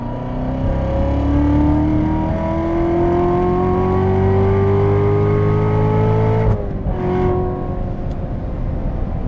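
A 700 hp Corvette Z06 engine revs hard and climbs steadily in pitch for several seconds, then drops abruptly on a gear change into third before pulling again.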